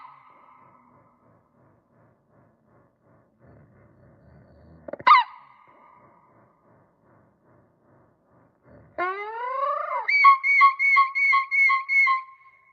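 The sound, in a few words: mockingbird mimicking sounds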